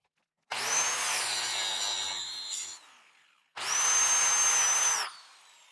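Cutting wheel grinding through a steel clamp on a bucket fork, heard as two loud, sustained high-pitched whining cuts of roughly two and one and a half seconds with a short pause between them.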